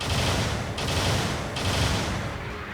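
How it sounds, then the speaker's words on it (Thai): Sustained machine-gun burst fire from the Hazel Custom's weapon in Gundam Battle Operation 2, a dense, loud, continuous rattle with two brief dips, no voices. "ปืนกลบูครับ มีทั้งหมด 40 นัด ซึ่งวิธีการยิงนั้นก็ไม่เหมือนกับบูครับทั่วไปอีก มันจะยิงทั้งหมด 4 นัด"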